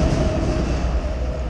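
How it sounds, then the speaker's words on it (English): A train rolling over a bridge above a fishing spot, a loud steady rumble with rhythmic clatter of wheels and cars close by. "Train going over."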